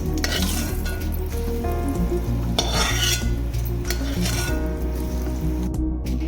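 Dry red chillies and raw onion fry in hot oil for an Assamese rice pitika, a steady close sizzle broken by stirring scrapes and a few light metal clinks, with no talking.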